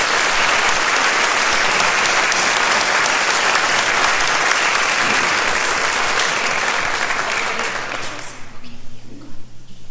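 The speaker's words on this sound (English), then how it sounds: "Let us give another round of applause for all of our winners." Loud, sustained applause from a large crowd at a city's State of the City address fills the room, then fades out near the end.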